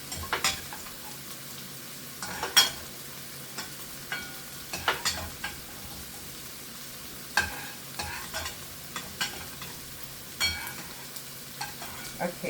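Three eggs scramble in a hot frying pan, a steady sizzle broken by repeated scraping and stirring strokes of a utensil against the pan, close and moderately loud with no talking.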